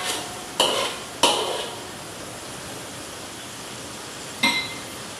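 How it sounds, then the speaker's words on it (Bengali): Spice masala fries in oil in a pot under a constant soft sizzle, broken by three sharp scrapes and clinks of a spoon stirring against the metal, with no talking. "পানি দিয়ে ভালোভাবে উপরে তেল উঠে আসা পর্যন্ত মাঝে মাঝে নেড়ে চেড়ে আমি মশলাটাকে ভালোভাবে কষায় নেব।"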